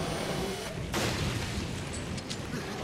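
Gunfire in Resident Evil Revelations, a single heavy shot ringing out near the one-second mark over a dense, noisy game background, followed by fainter sharp ticks.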